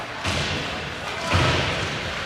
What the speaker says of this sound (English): Hudson bangs it off the glass.